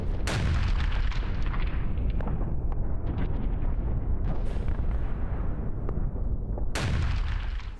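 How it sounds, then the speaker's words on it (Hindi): Bombardment of sites in southern Lebanon, with loud, sustained rumbling blasts and heavy crackling that roll on continuously for about eight seconds, as sharp new detonations strike near the start and again toward the end. "दक्षिणी लेबनान के कई ठिकानों पर बमबारी की गई है।"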